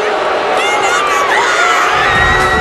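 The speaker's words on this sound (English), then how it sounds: "They're booing the refs" A loud arena crowd at a college basketball game between Maryland and North Carolina roars and jeers at the referees, a sustained sea of voices with rising and falling howls and whoops, dense and continuous.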